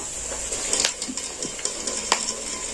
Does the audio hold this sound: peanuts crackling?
yes